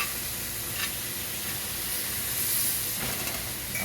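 Steak sizzling in a cast iron pan, a steady close hiss and crackle of frying fat throughout, with no talking.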